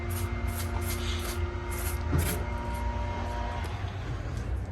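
Engine bay cleaner being sprayed under a car hood, a series of short hissing bursts from the spray bottle over a low steady hum, with no talking.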